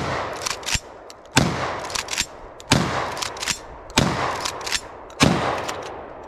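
A SPAS-12 shotgun fires five loud, sharp shots at a regular pace about a second apart, each blast followed by a short ringing tail, with no talking.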